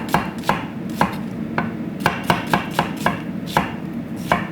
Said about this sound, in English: All I'm gonna do a little fucking cute little julienne here.